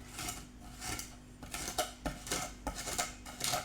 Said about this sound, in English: you can hear the grit from the salt, and you work a little bit at a time.